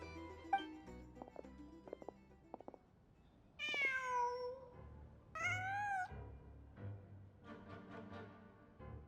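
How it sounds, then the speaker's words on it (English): A cat in the video game Genshin Impact meows twice, clear harmonic cries near the middle, preceded by soft clicks and footstep-like taps and followed by quieter ambient game sounds. "Just a cat."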